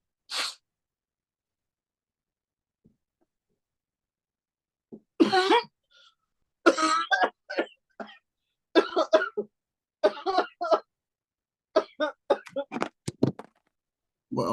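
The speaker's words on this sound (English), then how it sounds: "I did that because every time I cough" A single person coughs sharply near the start, followed by a long pause, then bursts of lively talk and laughter through the rest of the clip.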